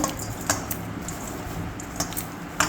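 Hands mash boiled potatoes with oil and onion for a homemade aloo bhorta, giving soft squishy kneading under a few light, sharp clicks and taps against a dish, close and fairly quiet.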